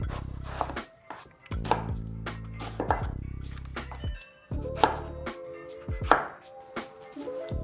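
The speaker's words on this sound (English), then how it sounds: "I'm going to chop the eggplant so I can deep fry them." A knife chopping eggplant on a board, a series of sharp, close cuts at an uneven pace with short pauses between groups, and no one talking.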